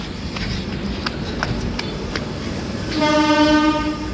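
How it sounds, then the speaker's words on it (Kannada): A train at a station platform rumbles and clatters with a few sharp clanks, then a loud, sustained horn blares near the end, close and prominent. "ಟ್ರೈನ್ ಆಲ್ರೆಡಿ ಇಲ್ಲಿ ಬಂದು ನಿಂತಿದೆ"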